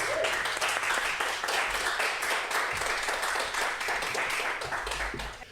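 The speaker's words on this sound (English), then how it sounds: "Round of applause for Jean." An audience applauds for a guest at a live interview event on the Sunshine Coast, dense clapping holding steady for several seconds before tapering slightly.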